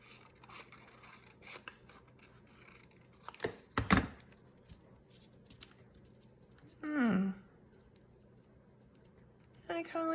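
Scissors snip a paper figure out for a junk journal craft, with close, crisp clusters of cuts separated by pauses and a few quieter rustling and tapping sounds in between.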